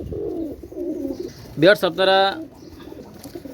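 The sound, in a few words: Pakistani pigeons cooing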